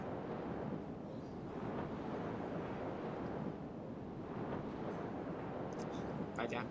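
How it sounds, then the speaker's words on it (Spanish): Continuous rushing surf from sea waves on a tropical island shore in the video game Paper Mario: The Thousand-Year Door, a steady broadband wash that swells and recedes with no break. "se escucha el mar"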